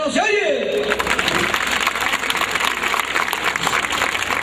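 Crowd applause at a town queen pageant in Acapetlahuaya, a steady, fairly loud wash of clapping that swells right after a brief stretch of talking at the start.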